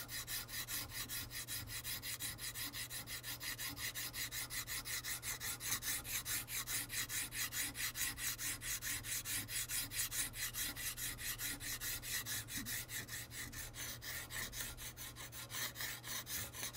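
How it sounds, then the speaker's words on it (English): A sharp scraper shaves fine curls from the wooden stock of a 1903 Springfield rifle, a quiet, rapid, rhythmic rasping of repeated strokes, close and faint. "The sharp scraper is giving you that real, real fine curl right there."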